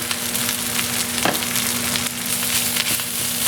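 Sea urchin crisping in a buttered pan gives a steady, close sizzle and crackle, with occasional louder spits and bursts as it fries.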